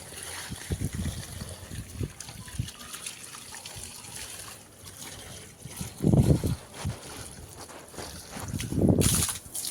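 Water from a hose splashes onto garden plants and soil, faint and intermittent, with a few louder gushing bursts and a soft background trickle.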